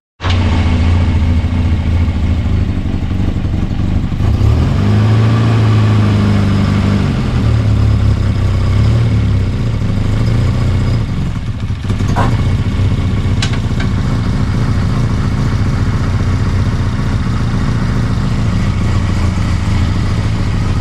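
A Volvo 244 GL engine runs steadily close by, a continuous motor drone that swells briefly partway through, with a few small clicks and no talking.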